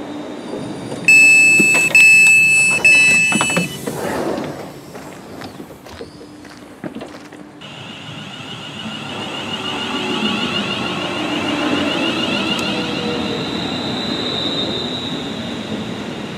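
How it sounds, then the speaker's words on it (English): Trains arrive at a Calder Valley Line railway station: sharp metallic wheel squeals and clanks early on, then a long rolling rumble with a whining tone as the carriages pass close by. "So these trains should be arriving now"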